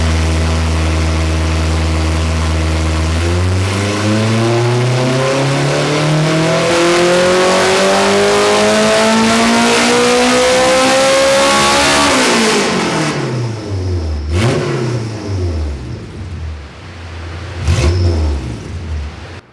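Close, loud run of a K-series Honda Civic engine on a dyno with race fuel, climbing steadily from idle to a high-rev wail, then dropping off and blipping a few times.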